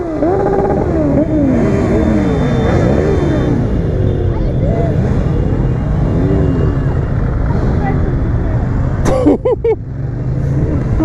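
Motorcycle engines revving loudly and repeatedly at a street protest against paid motorcycle parking in Paris, rising and falling throttle blips close by over a constant traffic rumble, with a brief sharp burst near the end.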